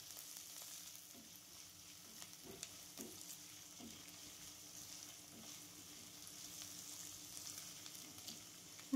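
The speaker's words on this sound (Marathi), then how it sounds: "छान भाजून घ्यायचे कांदे" Onions frying in a pan, a steady sizzle with occasional soft stirring taps, close and alone with no talk.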